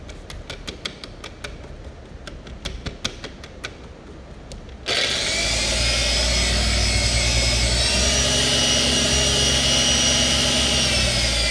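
Polishing machine with a Lake Country lambswool pad on car paint: several light tapping knocks first, then the machine spins up into a steady loud whirring drone that holds to the end.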